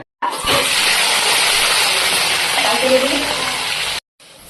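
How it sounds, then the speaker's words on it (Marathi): Curry leaves, green chili and onion hitting hot oil give a loud, steady sizzle that holds for about four seconds, then cuts off abruptly. "आता इकडं तेल गरम झाले त्याच्यामध्ये मी टाकणार कढीपत्ता मिरची कांदा"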